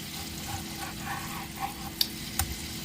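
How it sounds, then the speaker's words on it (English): Shrimp frying in oil for a po' boy, a soft steady sizzle with faint bubbling and a couple of brief clinks, fairly quiet and continuous with no talking. "so while our shrimp is frying"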